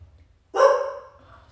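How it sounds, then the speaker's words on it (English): A single dog bark rings out close and fairly loud in an otherwise quiet indoor setting, one short burst trailing off quickly. "That's a dog."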